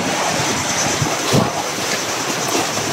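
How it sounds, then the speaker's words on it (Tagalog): Calm sea waves wash steadily at the shore, a broad continuous surf hiss mixed with gusting wind noise on the microphone, loud and close with no voices. "Ang dagat, oh. Kalmado."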